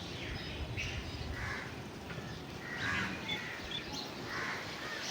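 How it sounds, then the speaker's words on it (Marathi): A crow caws several times near its nest, bursts spaced over a steady background hum and evening ambience, moderately distant and no voices present. "आमचा एक कावळा जो आमच्याकडे येतो त्याला सोनू नाव दिलं मी"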